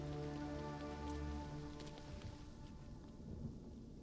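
Steady rain falling in a video game world, a continuous wash of patter with a low rumble and droning tones underneath, even and fairly close, with no voices.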